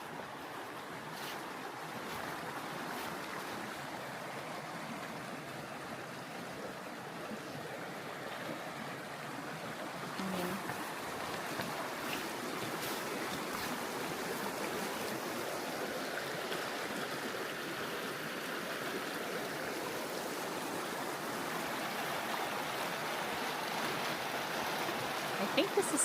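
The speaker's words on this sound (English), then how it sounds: "I think this is still Texas Creek." Clear mountain creek water rushing steadily along Texas Creek, a broad continuous wash of flowing water near a bridge, with a slight swell in loudness toward the end.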